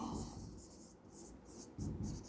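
Chalk or a marker scratches across a board during a statistics lesson, making a few short, dry strokes with brief pauses between them, close and fairly quiet with no speech.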